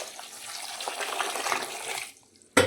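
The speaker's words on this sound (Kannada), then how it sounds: "ಸ್ವಲ್ಪ ನೀರು ಹಾಕ್ಬೇಕದೆ ಈ ರೀತಿಯಾಗಿ" Water pours from a vessel onto washed raw peanuts in a pressure cooker, a steady splashing stream for about two seconds that then stops, followed by a single sharp clink.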